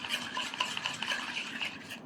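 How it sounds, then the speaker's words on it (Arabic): A utensil stirs food in a pan right after a pinch of salt goes in, making rapid, close scraping and clinking against the cookware in a busy rhythm, with no voices. "ونقلب تاني اهو"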